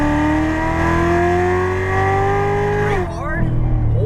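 A Chevrolet Corvette Z06 Stingray engine pulls hard under steady throttle, a loud sustained droning roar with rising pitch that shifts abruptly near the end as the gear changes.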